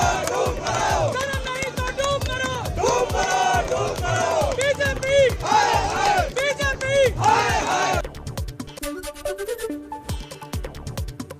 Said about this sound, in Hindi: दिल्ली में आम आदमी पार्टी के दफ्तर पर कार्यकर्ताओं की भारी भीड़।